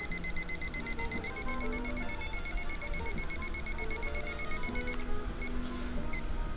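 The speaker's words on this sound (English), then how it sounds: "Reset timer." A kitchen-style timer alarm goes off with rapid, repeated electronic beeping that pulses steadily and loudly, cutting out briefly near the end before a last short burst.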